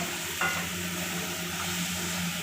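Pieces of young bottle gourd with the peel left on fry in a pan, giving a steady, close sizzle throughout with a faint stir or scrape early on and no talk.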